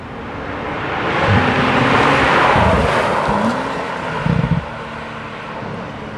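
A Porsche 911 Turbo of the 991.1 generation roars past with a broad, rushing exhaust note that swells and fades over several seconds, loud and steady without any talk.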